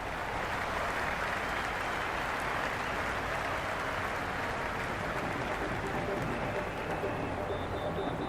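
A stadium crowd cheers and applauds without a break in the cricket video game Cricket 26 on PS5, a dense and loud roar of clapping and voices that holds steady from start to finish with no commentary over it.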